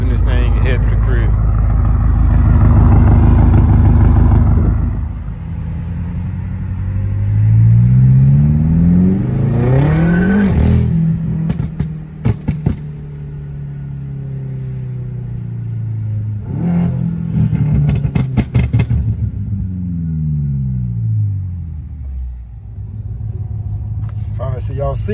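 Tuned Stage 2 BMW M5 accelerating hard from inside the cabin, loud engine rising through several revving pulls with gear-change dips, a voice occasionally talking over the roar.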